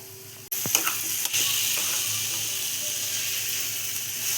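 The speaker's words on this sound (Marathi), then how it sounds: "तर मी यामध्ये मिल्क पावडर टाकत आहे। याला मिक्स करून घ्यायचं आहे।" A spoon stirs milk powder into a small amount of milk with food colour for muskmelon and coconut barfi, giving a steady close scraping, soft sizzle-like texture and a few sharp clicks near the start.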